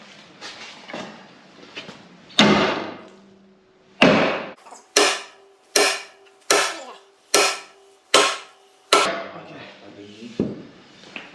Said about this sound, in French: Plus gros marteau.